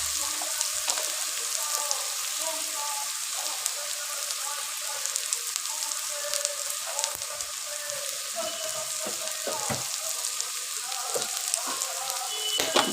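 Cumin seeds sizzling in hot oil for a wedding-style chicken curry: a steady, dense crackling fry with frequent small pops, continuous and close, with no voices.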